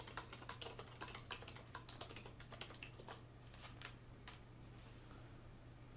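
Someone types on a computer keyboard in a quiet room, a quick, uneven patter of faint key clicks under a low steady hum.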